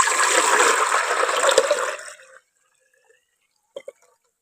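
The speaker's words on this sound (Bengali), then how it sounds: "এবার এই জলটাকে এখন আমি ফেলে দিচ্ছি।" Washing water from flour dough pours away in a loud, rushing gush for about two seconds, then stops, followed by a few faint drips and small clinks in near silence.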